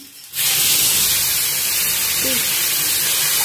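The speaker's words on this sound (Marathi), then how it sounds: "आता यामध्ये 1 ग्लास पाणी घालायचा." A glass of water poured into hot tempering for stuffed eggplant masala gravy, a sudden loud hiss and steamy sizzle that starts abruptly and holds steady throughout.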